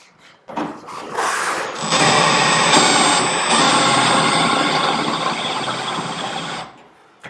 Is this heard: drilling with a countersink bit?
yes